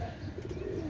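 Pakistani pigeon, a single male, cooing nearby in a steady low murmur that runs through the whole moment, with faint chirps from other birds around it.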